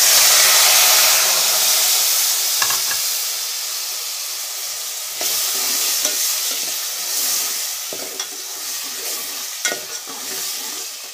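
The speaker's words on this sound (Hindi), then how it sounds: "इसको हम अच्छी तरह भूनेंगे इसी मसाले को, ताकि बिल्कुल इसका ऑयल ऊपर आ जाए" Masala fries hard in oil with browned onions while a spoon stirs it, producing a loud, continuous hissing sizzle broken by periodic scraping strokes against the pan.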